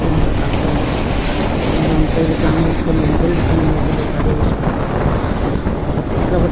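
Loud, steady roaring wind buffets the microphone while riding a two-wheeler from Mysore toward Nanjangud in heavy rain, a dense rushing wash like downpour, continuous and close, and a single word is spoken briefly.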